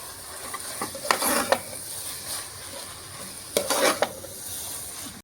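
A spoon stirs meal maker with masala in a pan, two bursts of scraping and sizzling against a steady low frying hiss, close and moderately loud, with no talking.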